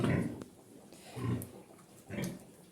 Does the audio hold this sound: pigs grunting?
yes